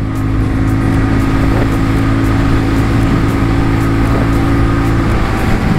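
A TVS Ronin 225 motorcycle engine drones steadily and loudly under hard acceleration toward top speed, with heavy wind rush throughout and no talking.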